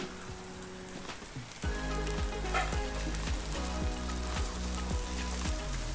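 Tomato pickle frying in oil with chili powder, salt and turmeric gives a steady, loud close sizzle that jumps up partway through, with faint stirring scrapes and no talk.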